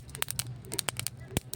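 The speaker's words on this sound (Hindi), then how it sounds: "यानी कि हमारी अलसी सिकने लगी है कि अलसी हमने नीचे उतार दी और कैसी आवाज़ आ रही है" Flaxseed roasting in a pan crackles and pops in sharp, irregular bursts close by, over a faint low hum.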